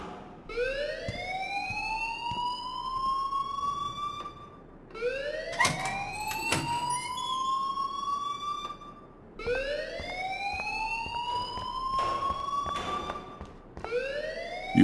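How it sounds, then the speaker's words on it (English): A wailing electronic alarm in the video game Life is Strange, rising sweeps that repeat about every four seconds, loud and steady with no talk over it. "please turn off that alarm since that's your job"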